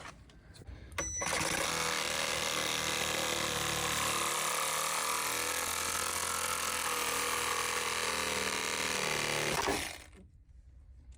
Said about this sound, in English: Buzzsaw, where's that?